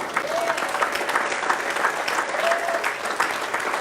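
Sustained applause from a church congregation acclaiming the Lord during a French-language sermon, a steady wash of many hands clapping throughout, with faint crowd murmur beneath.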